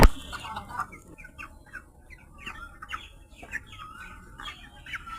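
Chickens, broiler birds brought for sale, cluck and chirp in a rapid run of short calls over a low background, fairly close and moderately loud, with no talking.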